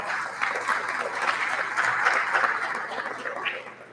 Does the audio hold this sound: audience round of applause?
yes